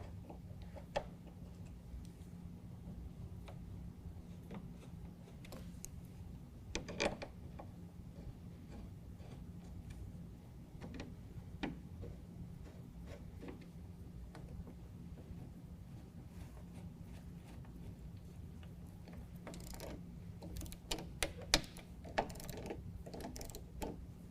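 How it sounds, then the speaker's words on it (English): A T30 driver tightening the screws of an A.R.E. DoubleCover tonneau cover on a 2019 Ram 1500, faint scattered ratcheting ticks and clicks with a brief burst of sharper clicks near the end. "we're going to tighten them down to 60 inch-pounds with a T30"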